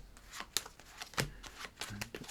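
Playing cards are dealt one at a time in an under-down deal during a self-working card trick, giving a steady series of soft, close card slaps and slides.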